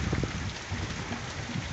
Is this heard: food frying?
no